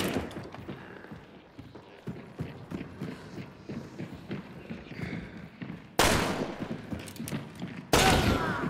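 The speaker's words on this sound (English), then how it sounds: "Shotgun, shotgun." Shotgun blasts in the video game Hunt: Showdown: after scattered footsteps and handling clicks, two loud, sharp booming shots ring out a couple of seconds apart near the end, each leaving a brief ringing tail.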